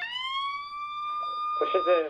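A steady electronic police siren tone in Liberty City, Grand Theft Auto, rises slowly in pitch, and a voice starts talking over it near the end.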